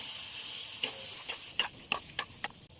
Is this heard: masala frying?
yes